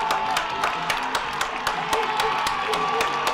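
A home crowd at a varsity high school football game against Fort Madison cheers and claps to drown out the opponent's cadence: a sustained roar with sharp rhythmic claps and whoops, dense and continuous.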